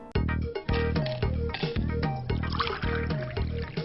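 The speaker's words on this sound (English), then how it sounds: "If you love that sound, then pour yourself a Glen Hunter Scotch whiskey" Glen Hunter Scotch whiskey poured over ice, a rhythmic glugging from the bottle with repeated gurgles, close and clear with nothing else audible.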